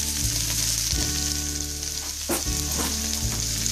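Zucchini frying in oil in a pan, stirred with a spoon: a loud, continuous sizzle close by, with the spoon scraping and thudding against the pan at irregular intervals.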